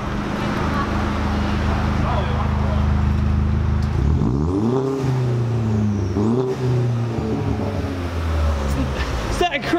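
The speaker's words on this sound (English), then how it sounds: "Let me hear this sick car." A loud modified car at a car meet idles with a deep rumble, then is blipped in two or three quick revs, close by, with people talking around it.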